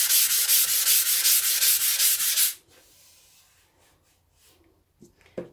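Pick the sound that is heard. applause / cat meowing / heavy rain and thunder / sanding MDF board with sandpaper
sanding MDF board with sandpaper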